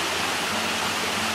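Mountain river with a small waterfall near a remote hot-spring inn in Tochigi, Japan: a dense, steady rush of water fills the whole moment, close and loud, with no talk.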